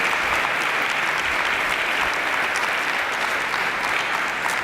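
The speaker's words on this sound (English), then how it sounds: "Let's give them a round of applause." Dense, even applause from an audience honoring essay contest winners, a steady wash of clapping with no pauses for the whole stretch.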